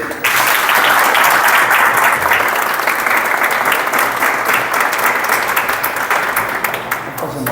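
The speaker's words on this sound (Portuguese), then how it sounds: "Vamos aplaudir Jesus pela vida dele?" An audience at a church talk bursts into loud, full applause right from the start, and the dense clapping stays strong for several seconds before easing slightly toward the end.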